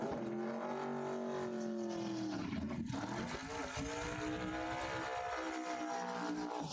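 Loud, sustained engine roar from drag racing cars in the Outlaw Small Tire final at Cordova Dragway, with harmonic revving that dips and climbs again, close and continuous throughout.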